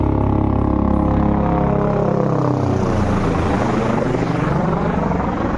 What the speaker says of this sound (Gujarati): આ તો આખો દિવસ હેલિકોપ્ટર ઉડ ઉડ જ કરે એક જાય ને બીજું આવે